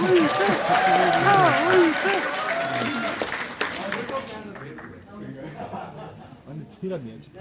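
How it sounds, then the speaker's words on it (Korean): A crowd at an outdoor political rally applauds to welcome a speaker, clapping and cheering loud at first and then thinning out, while someone speaks over it throughout. "여러분 큰 박수로 맞이해 주시기 바랍니다"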